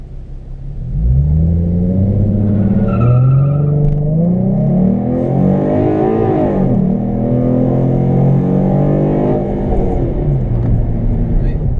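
Car with an SCT Bama 87 octane pre-loaded tune on a timed acceleration run, engine revving hard through rising pitch sweeps with gear shifts, loud, close and sustained from cabin perspective.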